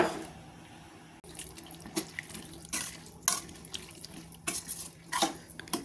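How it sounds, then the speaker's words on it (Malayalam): Water splashes and trickles into a curry pan of vegetable pieces, with irregular pours and spattering bursts close by and no talking. "കഷ്ണങ്ങളെല്ലാം വേവുന്നതിന് ആവശ്യമായ വെള്ളം ഒഴിച്ചു കൊടുക്കുന്നുണ്ട്"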